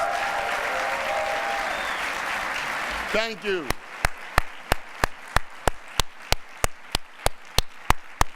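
A convocation audience applauds faculty with a dense, loud wash of clapping for about three seconds. A voice then speaks briefly, followed by a run of evenly spaced sharp claps.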